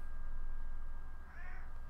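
A house cat meows once, a short rising-falling call partway through, fairly close over a low steady background hum.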